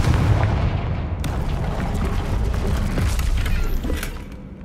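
A Confringo fire-blast spell explodes in Hogwarts Legacy, a loud booming burst followed by a sustained rumbling roar and crackle that holds steady for several seconds before easing off near the end, with no voices.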